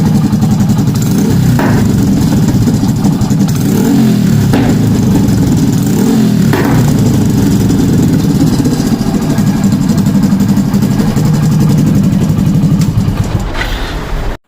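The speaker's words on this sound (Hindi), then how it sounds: "ऐसी आवाज़ आती है, आपको रेस दे के दिखा देता हूँ।" A motorcycle engine idles loudly close at hand and is blipped several times, each brief rev lifting the low rumble before it settles back, before cutting off abruptly at the end.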